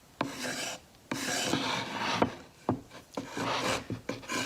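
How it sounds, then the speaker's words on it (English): Hand tool scraping along the edges of a soft clay tile to bevel and round them, a series of short, close rasping strokes with brief pauses between, fairly quiet. "I'm going to continue just to use this like bevel the edges, take away any excess clay"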